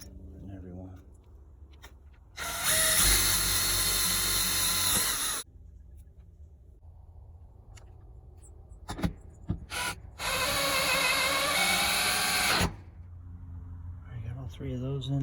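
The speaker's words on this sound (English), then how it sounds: "drill that through there." Power drill boring through pre-drilled holes, likely into shims or framing, in two loud sustained bursts of a few seconds each, with quieter handling noise and faint talk in between.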